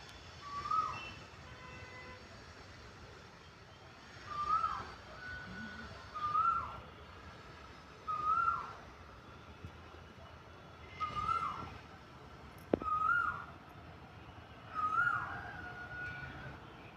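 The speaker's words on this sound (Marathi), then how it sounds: "आज मी तुम्हाला कोकिळेचा आवाज ऐकवणार आहे" An Asian koel calls again and again, each rising whistled note clear against quiet surroundings, spaced a couple of seconds apart, in the season when mango trees flower.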